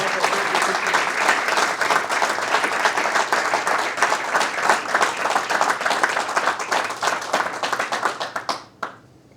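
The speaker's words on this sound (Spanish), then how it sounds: "Un fuerte aplauso para Pedro, por favor." Sustained audience applause at a tennis history talk in Spain, a dense steady clatter of many hands that thins into scattered claps and stops near the end.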